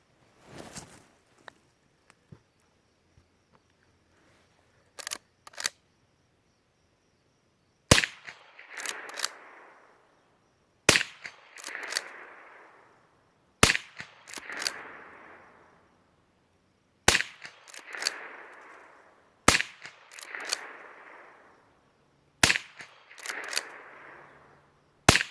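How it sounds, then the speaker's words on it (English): A handful of single gunshots from a dirty handgun fire one at a time, each a loud sharp crack followed by a brief ringing tail, spaced a few seconds apart with faint handling noises before the first shot. "But I'm going to fire a few shots."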